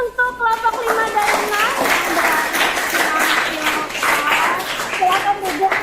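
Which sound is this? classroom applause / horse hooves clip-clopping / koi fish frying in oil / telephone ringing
classroom applause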